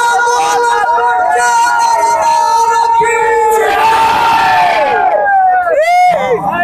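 A large crowd at a Hindi-language folk performance in Uttar Pradesh shouts and cheers loudly, with sustained yelling and whooping voices that rise together and fade near the end.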